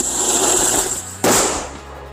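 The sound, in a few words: Roket Kaget firecracker exploding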